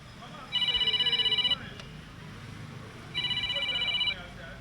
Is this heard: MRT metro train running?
no